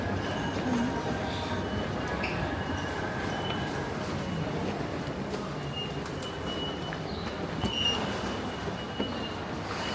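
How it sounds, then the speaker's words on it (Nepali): Train station ambience in Japan, with a steady broadband rumble of rail noise, faint distant chirps and scattered clatter, an even, moderately quiet wash throughout, no clear talk. "सो हामी चाहिँ अहिले एउटा ट्रेनको स्टेसनमा छौँ।"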